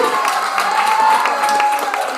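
An open mic audience keeps up a dense, steady round of applause as a performer heads to the stage, with a few cheers and crowd voices mixed into the clapping.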